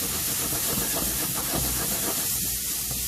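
Onion, garlic and shallots sweating in a pan for Mexican rice, a loud hissing sizzle with broad steamy noise that stays steady throughout, no talking.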